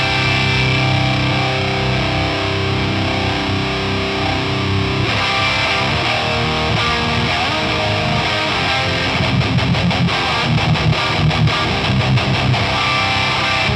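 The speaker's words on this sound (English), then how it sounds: "This is a traditional tube screamer style pedal by the looks of it. So if we turn that on" A distorted electric guitar plays through a Tube Screamer-style overdrive pedal in the Nembrini Coreblade amp plugin. The sustained chords are loud and saturated, and the picking turns more rhythmic and choppy toward the end.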